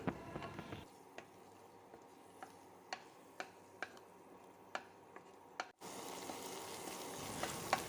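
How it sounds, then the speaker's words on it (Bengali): Spices and ginger-garlic paste frying gently on a low flame, a soft low sizzle under evenly spaced spoon taps, then a sudden louder, fuller hiss near the end, with no talk. "এভাবে 2 মিনিট মশলাগুলো লো ফ্লেমে ভেজে নিচ্ছি।"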